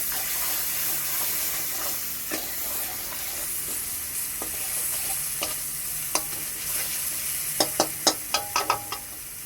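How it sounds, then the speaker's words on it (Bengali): Spice masala with a little salt and Kashmiri chili powder fries in a pan, giving a soft steady sizzle broken by scattered spatula scrapes and clicks that cluster more quickly near the end. "মশলাটা ভালোভাবে কষিয়ে নেব"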